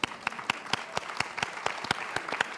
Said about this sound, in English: Well, you were getting applause.